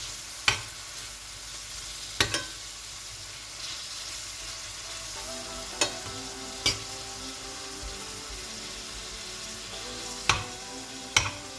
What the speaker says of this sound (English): And I'm going to mix everything together.